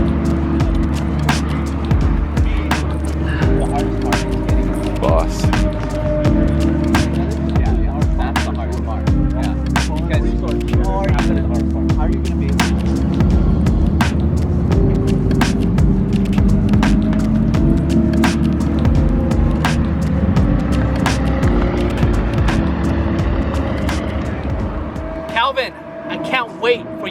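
Race cars run on the Thermal Club track, a loud steady engine roar with shifting pitch and repeated sharp clicks throughout, fading near the end while people talk over it.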